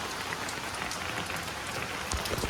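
Steady dense patter of heavy rain falling in Guwahati, a continuous hiss with scattered drops, fairly close and even throughout; no voices.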